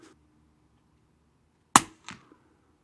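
Suppressed subsonic 300 Blackout rifle shot from a Ruger American fitted with a Sig suppressor at an outdoor range: one sharp, fairly close crack with a short tail, followed by a quieter clank, with no talking.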